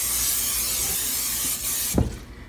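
A steady, close hiss of aerosol cooking spray on a pan for about two seconds, ending with a clunk as the can or pan is set down.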